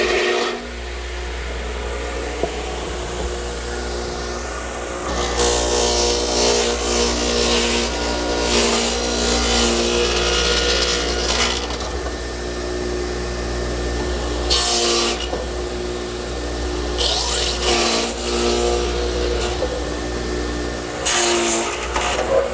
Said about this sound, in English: I want to cut the opposing angle, and to do that I have to turn my radial arm